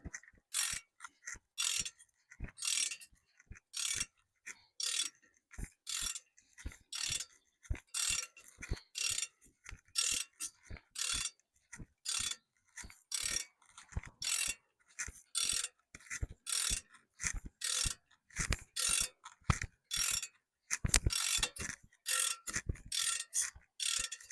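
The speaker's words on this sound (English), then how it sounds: "my ratchet has stopped ratcheting" A ratchet wrench clicks steadily on a Jeep Cherokee under repair, with repeated rapid bursts of metallic ratcheting strokes and brief pauses between them, close and fairly loud, no voices.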